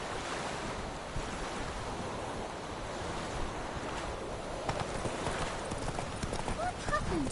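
Hooves of Roach, a horse in The Witcher video game, clopping along at an easy pace under a steady wash of wind and surf-like ambience, with a voice talking over it.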